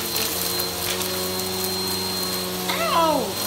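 Household vacuum cleaner running with a steady motor hum and whine, then winding down with a falling pitch near the end.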